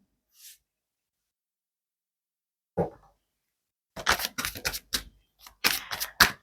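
Tarot cards are shuffled close by in short crackling, papery bursts that come in quick irregular clusters after a mostly quiet stretch.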